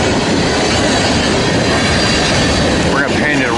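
Westbound empty ethanol freight train rolling through an S-curve in Tyrone, Pennsylvania, loud and close, with continuous rail rumble, clattering wheels and rising squeals of wheel flange on the curve.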